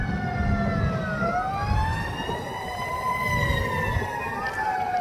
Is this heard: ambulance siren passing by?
yes